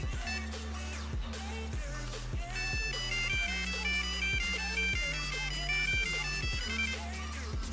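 A Nokia 3310 plays a monophonic ringtone: a bright, beepy melody of clean single tones in a steady rhythm over a repeating low pulsing accompaniment, loud and continuous.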